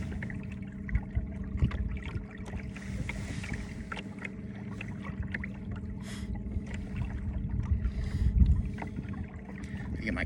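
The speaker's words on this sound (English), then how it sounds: "you kind of get used to the sound of the motor" Outboard motor on a fishing boat trolling slowly over Lake Tawakoni for white bass, a steady low drone with water lapping and sloshing around the hull throughout.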